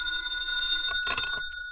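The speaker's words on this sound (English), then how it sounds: "I was just turning off the light when the phone rang." An old-time radio drama telephone rings with a bright, sustained metallic bell tone that holds for about a second, then breaks into a short burst of rattling rings before it stops.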